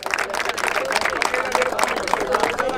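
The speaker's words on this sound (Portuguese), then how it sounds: "Uma salva de palmas pra Storms Brasil aí" A crowd at a rap battle event in Barueri, São Paulo, applauds with a steady patter of clapping that lasts throughout, while someone speaks over it.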